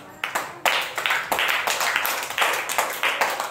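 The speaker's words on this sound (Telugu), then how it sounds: "Siddhu, very good, claps." Group of children clapping in a classroom word-identification lesson, a few sharp initial claps swelling into a brief, close round of uneven hand claps.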